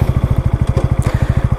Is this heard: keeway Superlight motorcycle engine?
yes